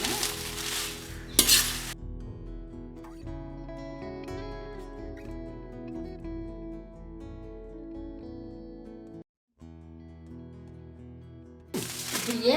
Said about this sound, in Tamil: இப்படியே கொஞ்சம் கொஞ்சமாக எல்லாத்தையும் வறுத்து எடுக்கணும்